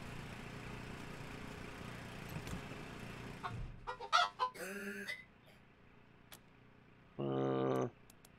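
A robot chicken in the video game Wasteland 3 gives short bursts of clucking and squawking, one clear burst near the end, after a stretch of steady game background sound.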